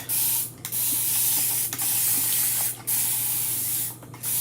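Steady hissing mist from a handheld water sprayer wetting chalk drawing, several long bursts separated by short breaks, close and even, with no voices.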